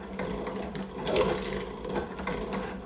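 A walking foot leather sewing machine driven by a servomotor stitches through thick 3/8-inch leather, giving a fast, even mechanical clatter up close with no speech.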